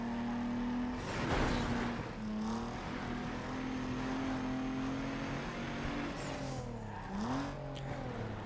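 Engine of a car in the Need for Speed Underground 2 racing video game, a steady droning hum holding pitch with a brief rise and dip near the end, beneath a noisy burst early on.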